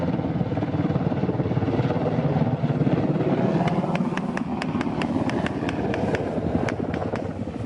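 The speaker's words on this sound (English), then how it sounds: "The helicopters make several attempts at landing." Colombian army military helicopters hovering low while trying to land during combat with FARC guerrillas, a loud steady rotor roar throughout, with sharp cracks of gunfire joining over the second half.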